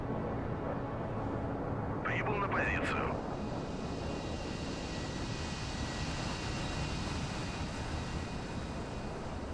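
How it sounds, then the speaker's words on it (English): Su-24 jet landing in the naval combat game Sea Power, a steady engine roar with a brief rising whine passing through, someone talking over it. "That's an Su-24 landing there."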